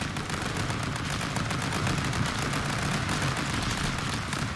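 Guns fire in the video game Stick Fight as a dense, continuous rattle of rapid shots at moderate loudness, with no pauses and no talk.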